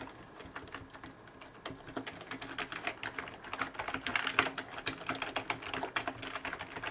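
Steady, rapid typing on a Canyon Hazard keyboard with soft, muffled, membrane-like keystrokes that patter continuously and pick up slightly in pace toward the middle.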